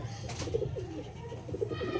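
An Andhra pigeon of the Kapaldori line coos in soft repeated low calls, close by over a faint steady background hum, with no talking.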